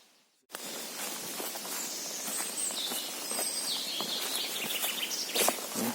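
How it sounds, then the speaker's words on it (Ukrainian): Birds sing in a damp, marshy forest, a scatter of high chirps and calls continuing over steady background hiss after a brief near-silence at the start. "Пташки виспівують."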